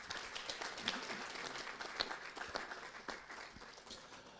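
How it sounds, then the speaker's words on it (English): Applause from an audience at an energy efficiency and electric mobility conference, a steady, moderately distant wash of many hands clapping with some faint voices mixed in. "Let's give her a big round of applause."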